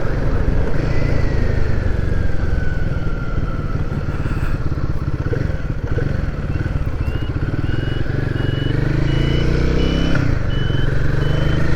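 A warning buzzer on a Royal Enfield Guerrilla 450 motorcycle beeps in a repeating pattern while the bike is ridden, partly buried under loud engine rumble and rushing wind.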